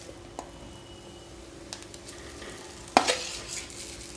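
Cassava fries and is stirred in a pan. A faint sizzle runs through it, with light scrapes and one sharp, louder scrape of the utensil near the end.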